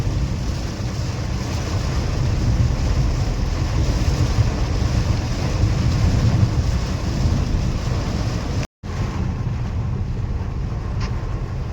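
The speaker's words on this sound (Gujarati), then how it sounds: "ધોધમાર વરસાદ અત્યારે ચાલુ છે" Heavy rain pours down while driving on a country road near Kerala village in Gadhada taluka, Gujarat. A steady, loud broadband wash of rain and road noise runs throughout, with one brief dropout near the end.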